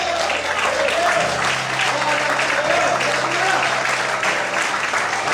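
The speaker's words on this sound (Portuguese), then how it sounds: "Quando podem aplaudir e exaltar o Senhor." A congregation applauds during a Portuguese-language church service, loud sustained clapping with voices and shouts of praise mixed in throughout.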